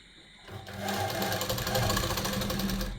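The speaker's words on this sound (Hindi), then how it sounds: "चलिए तब तक हम सिलाई लगा लेते हैं।" A sewing machine stitching a gents kurta pajama runs in one steady, fast, continuous burst after a brief quiet start, close and loud with no talk.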